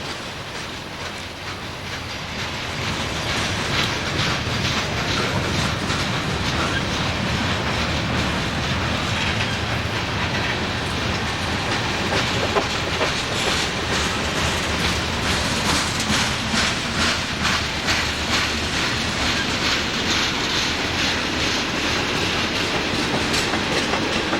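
A freight train carrying chemicals, lumber and steel coils rolls past in Pennsylvania, loud and close, with continuous rumbling and rhythmic clickety-clack of wheels on rail joints and no voices.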